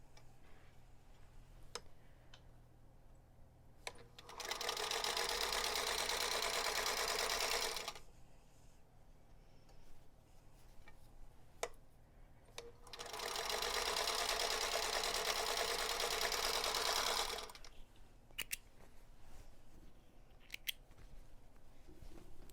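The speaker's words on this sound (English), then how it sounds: "we will sew right on those diagonal lines" A domestic sewing machine stitches a quilt block along diagonal lines in two steady bursts of rapid whirring, each about three to four seconds long, separated by quieter pauses with small clicks and handling sounds.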